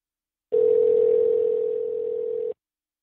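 A telephone line tone sounds while a sports talk show calls a guest, one steady, loud two-second tone that cuts off cleanly, with no talking over it.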